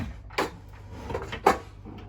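Kitchen cupboard being packed, with a few close knocks and bumps of items and doors over about two seconds, two sharper thuds standing out.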